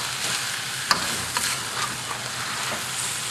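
Eel stir-fried with onion wedges in a wok, Vietnamese style, gives a steady close sizzle broken by a few sharp scrapes and clinks of the spatula as the pieces are tossed.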